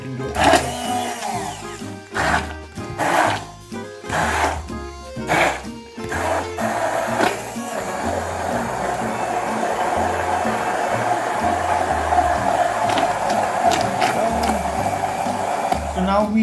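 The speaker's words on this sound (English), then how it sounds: "So let's bring all this together and give it a good blend." Blender motor pureeing mixed berries, starting in short bursts and then running as a steady loud whir through the rest, with a voice speaking over the early pulses.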